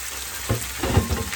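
Oysters stir-frying in a hot pan, a dense continuous sizzle with a few swelling bursts as they are moved around.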